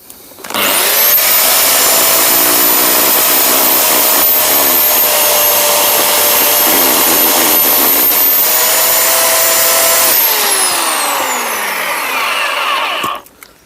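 An electric chainsaw cuts through seasoned wood, revving up to a loud sustained whine as the blade bites, holding steady for about nine seconds, then winding down and stopping.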